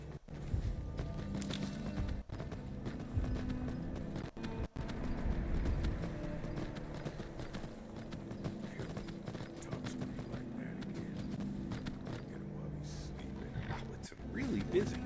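Horse hooves clop steadily during riding in a video game, a continuous rhythmic gait under a player's quiet talk and game sounds.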